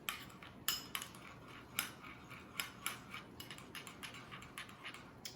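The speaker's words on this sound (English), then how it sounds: "So let's stir this up." Rhythmic metal-on-bowl clinks and scrapes from stirring ingredients in a bowl while cooking a tamarind-glazed black bass dish, repeated light taps at a steady pace, fairly faint and close.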